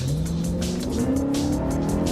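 A car engine revs hard to a high pitch and climbs steadily, loud and close, with a whining tone sustained throughout.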